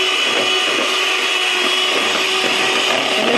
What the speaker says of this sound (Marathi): ही ऑनलाईन मागवली होती मशीन मी व्हिपक्रीम फेटण्यासाठी